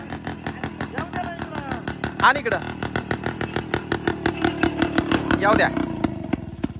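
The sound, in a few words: tractor engine running while pulling out a Thar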